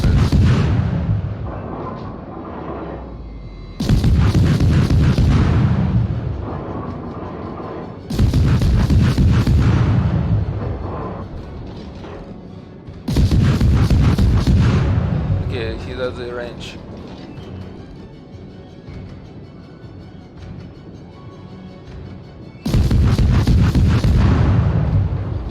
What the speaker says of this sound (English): I can fire at one and then fire at the other.